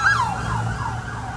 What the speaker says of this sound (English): Okay, now the ambulance is gone.